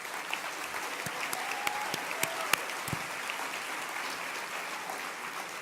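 An audience applauds steadily after remarks by Democratic Leader Nancy Pelosi at a leadership and arts session, a dense patter of clapping with a few sharp individual claps standing out.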